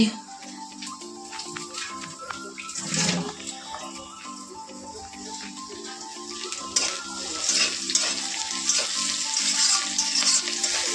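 Fish pieces sizzle in a hot pan in a home kitchen, steady frying hiss under scattered clinks of utensils and pots, with tonal kitchen sounds throughout.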